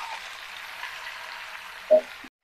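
Ripe jujube plums (kul) frying in hot oil with five-spice tempering and dried red chilies for a sweet-sour pickle, a soft steady sizzle that cuts off at the end after a brief clink.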